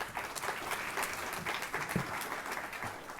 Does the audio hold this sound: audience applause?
yes